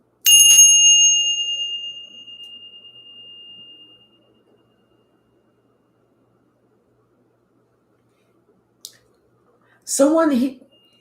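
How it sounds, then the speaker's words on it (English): A single bright bell struck once, ringing clearly and decaying over a few seconds into silence, followed later by a short click and a brief voice. "Now let's go ahead and ring the bell"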